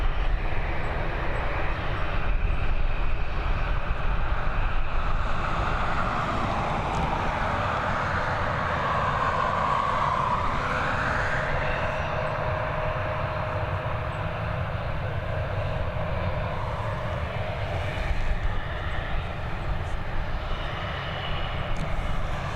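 An Aer Lingus Airbus A320 jet airliner departing Dublin Airport as flight EI336 for Berlin roars loudly and steadily, with a whining tone swelling midway before the roar settles and continues.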